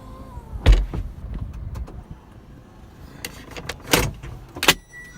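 The electric folding roof of a Mazda MX-5 Sport Roadster runs nearby, with short motor whirs and a few sharp clunks as the roof panels lock into place.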